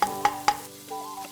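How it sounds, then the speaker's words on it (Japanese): Onions frying in oil in a hot pot over a campfire, with a few sharp stirring scrapes near the start under a steady low sizzle, and ringing tonal clinks later on. "油をひいて熱した鍋に玉ねぎを入れ透き通るまで炒める"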